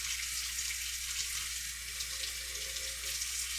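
Hot water runs steadily from a kitchen tap during a Hamburger Helper cooking session, a close, even rushing hiss with no breaks and no voices.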